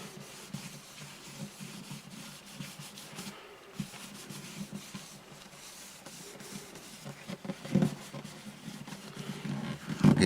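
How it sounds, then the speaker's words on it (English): Ebony dust is worked into an acoustic guitar bridge on an Alvarez Artist AD65 by hand, producing a soft, continuous rubbing and scuffing texture with occasional louder strokes, close up and with no speech. "Rub a little of it on, rub a little of it off."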